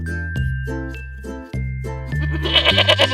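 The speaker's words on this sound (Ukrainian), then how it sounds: "Коза." A goat bleats several times in a row, each call short, loud and close. A faint tinkling runs underneath, and no speech is heard.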